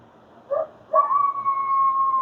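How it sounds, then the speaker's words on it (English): Coyotes giving a short yip, a pause, then a long, clear, rising-and-holding howl, fairly close, alone in a quiet night. "Coyotes howling."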